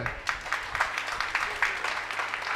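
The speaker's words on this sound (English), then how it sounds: "Just round of applause for her." Audience applause for a breast cancer survivor at a breast cancer screening and awareness drive, a moderate patter of clapping from a hall crowd sustained for a few seconds, slightly distant and roomy.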